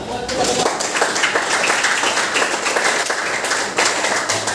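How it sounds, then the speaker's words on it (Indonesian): A classroom of students claps after a group discussion in a school lesson, steady close applause running throughout with voices mixed in. "Tepuk tangan dulu dong"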